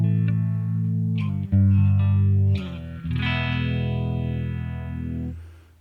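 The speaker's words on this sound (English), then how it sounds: "So now we get the phaser." Electric guitar played through a subtle phaser pedal routed via a bypass looper, distorted chords ringing with a slow sweeping whoosh rising and falling across sustained notes.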